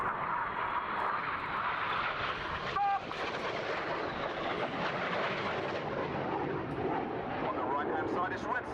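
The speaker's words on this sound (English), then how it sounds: "the synchro pair rejoin us for another amazingly close pass" Red Arrows jets of the RAF synchro pair make a close pass at an airshow, a broad, sustained jet roar with wind buffeting and a commentator talking over it throughout.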